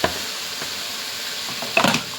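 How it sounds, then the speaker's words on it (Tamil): Chili powder and tomatoes sauté in a pan for a fish kuzhambu, with a steady close sizzle and a brief stir or scrape near the end. "இந்த மிளகாய் தூள் வந்து நல்லா வதக்கி வச்சுக்கலாம்."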